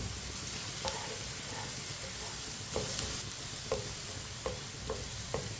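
Okra (bhindi) frying in a pan with a steady, soft sizzle, broken by occasional light taps and scrapes as it is stirred. No voices.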